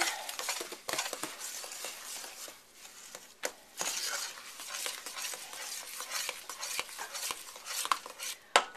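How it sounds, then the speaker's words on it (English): Quick cooking oats, three cups, being stirred into a pot, with close irregular scraping and rustling strokes and a few sharp spoon knocks against the pot. "I am going to add 3 cups of quick cooking oats. stirred in."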